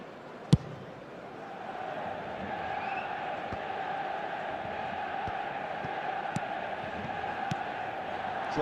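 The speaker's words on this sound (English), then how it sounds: "Maybe the crowd will stay a little quieter next time." Stadium crowd noise from the eFootball soccer video game forms a steady, fairly quiet murmuring din throughout, with a few sharp clicks and thumps standing out above it.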